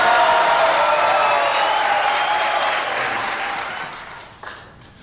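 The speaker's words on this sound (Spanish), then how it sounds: "Aplausos para el número 5, Raúl" Loud, dense applause and some cheers from a television contest show audience for a contestant, holding steady and then gradually thinning and fading toward the end.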